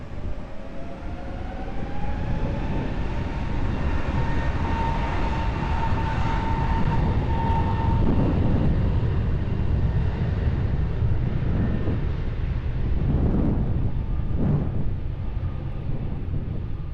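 A Lufthansa airliner takes off from runway 20 at Lisbon Airport, its engine roar broad and steady for the whole stretch with a rising whine early on, loud and continuous without speech.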